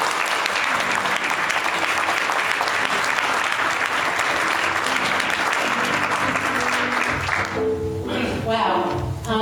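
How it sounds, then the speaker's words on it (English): Church congregation giving a sustained hand clap of praise, a dense, loud roll of many hands that carries on steadily, with voices and a musical tone rising over it near the end. "Why don't you give God a hand clap of praise as she comes."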